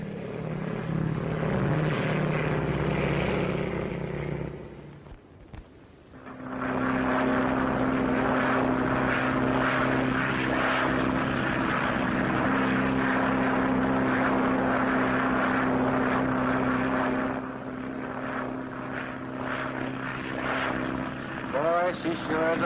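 A propeller airliner drones loudly and steadily, briefly falling away before surging back to a full, even roar. The recording is muffled and old-sounding, and voices talk over the engine noise.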